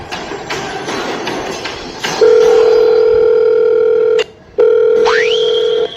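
A telephone call connects and a steady ringback tone sounds in long clear pulses, broken by a short gap, then a rising tone at the end; no talk over it.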